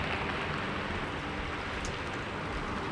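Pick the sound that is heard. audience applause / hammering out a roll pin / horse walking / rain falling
rain falling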